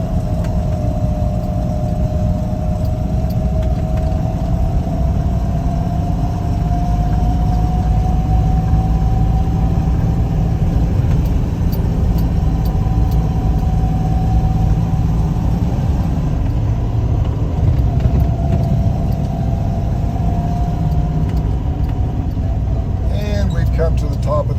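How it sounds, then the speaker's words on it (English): A 1976 Toyota FJ40 with its 2F engine lugs uphill in third gear at high altitude, giving a loud, continuous low rumble and steady drone with a faint rising whine, close and unbroken throughout. "I'm lugging this engine and pulling it."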